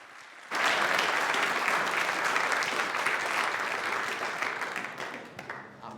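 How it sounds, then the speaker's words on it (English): Sudden loud applause from a large audience at a brass band concert starts abruptly and continues steadily for several seconds before gradually thinning out. "Can you give them another round of applause?"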